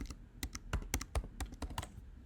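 Quick, uneven keystrokes tap on a computer keyboard while login credentials are entered, a close, moderately quiet burst of clicks with no one talking.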